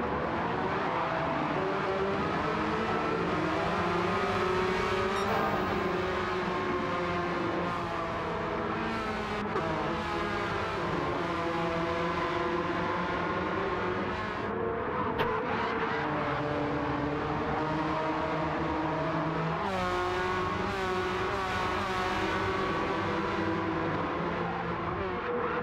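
Porsche Cup race cars roar around the Laguna Seca circuit, their engines loud and continuous with rising and falling revs as several cars battle closely, no speech over the steady racing noise.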